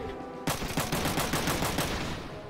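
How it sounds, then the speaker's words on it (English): Mech gunfire in Front Mission 3: after a brief quiet moment a loud burst of about eight evenly spaced heavy shots rattles out, close and punchy, fading slightly at the end with no voices. "Well, I guess I'll shoot"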